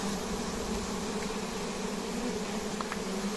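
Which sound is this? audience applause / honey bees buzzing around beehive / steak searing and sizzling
honey bees buzzing around beehive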